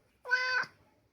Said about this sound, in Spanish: Ya no maulles.